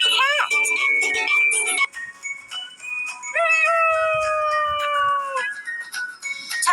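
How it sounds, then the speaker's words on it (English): Cartoon cat meowing in a kids' ABC learning game: a couple of bright, drawn-out synthesized meows with sliding pitch, clear and close, with a short burst of lower sound between them. "cat."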